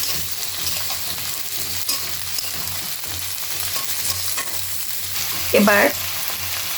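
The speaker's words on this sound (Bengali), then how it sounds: "কেটে রাখা সিম আলু ঢেলে দিলাম। নেড়ে চেড়ে দিচ্ছি।" Sliced flat beans and potatoes stir-fried in a hot pan give a steady, close sizzle throughout, with a single brief spoken word near the end.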